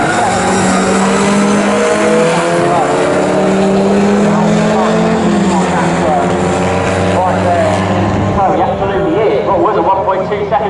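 GT race cars race at Snetterton circuit, several loud engines howling and shifting pitch as they pass, one car trailing into the next, with a commentator talking over them throughout.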